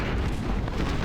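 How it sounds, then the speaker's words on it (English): A dense, roaring burst of massed musket fire fills this short stretch of the Ultimate General video game, a continuous loud rumble with no pauses. "is going to fire a volley against this unit"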